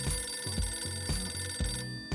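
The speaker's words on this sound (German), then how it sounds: "möchtest du nicht an das Telefon rangehen?" A telephone rings in a short, even pattern of repeated bursts, loud and close, with no voices over it.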